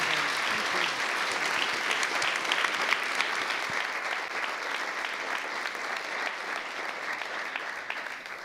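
An audience at a seminar on hidden wealth and inequality applauds in sustained, dense clapping that holds loud and even throughout, heard from within the room.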